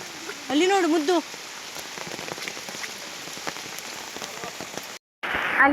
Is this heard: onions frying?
no